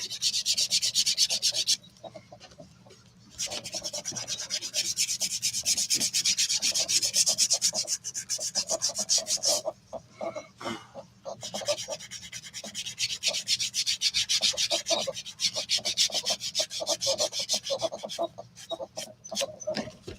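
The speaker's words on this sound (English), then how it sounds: "A little bit of sanding." Close, brisk back-and-forth sanding on leather in long bursts, with a few short pauses between runs of strokes.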